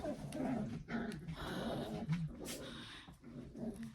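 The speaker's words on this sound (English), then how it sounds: "I hope my dogs aren't setting off your dogs if you have dogs" Dogs indoors growling low and letting out short whimpers and whines, fairly faint and close, with no talking.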